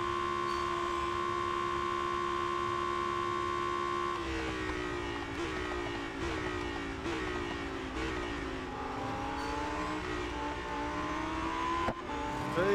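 Lamborghini Huracan STO engine in the racing game Real Racing 3, a continuous loud synthetic engine whine holding steady, then climbing and dropping through repeated gear shifts, no talking.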